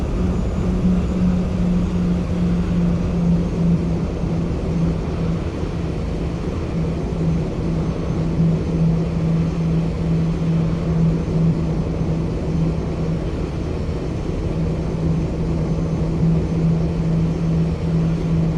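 A Southwest Boeing 737-800 in Roblox Flightline roars down the runway on takeoff, its jet engine noise loud and steady throughout with a constant low hum underneath.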